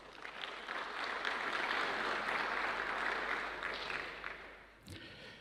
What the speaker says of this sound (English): Ladies and gentlemen, please give a round of applause to our two panelists.